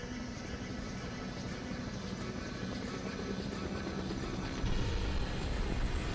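A steady, continuous rotor-like drone of a cartoon helicopter from the animated series Skibidi Toilet, fairly constant in level, with a slight boost in low rumble near the end.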